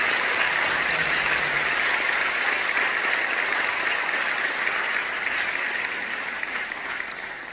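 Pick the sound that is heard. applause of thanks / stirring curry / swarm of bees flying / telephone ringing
applause of thanks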